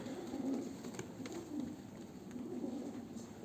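Pet pigeons kept for many years coo softly in a low, repeating rolling murmur, faint and steady throughout with no talk over it.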